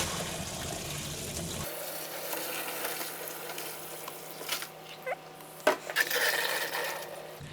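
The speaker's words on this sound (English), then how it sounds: "we will repeat the process again by running it with the tap water for another 5 minutes" Tap water running over mushrooms in a kitchen strainer, a quiet steady splashing hiss that gives way to lighter trickles, with a few sharp clinks and knocks near the end.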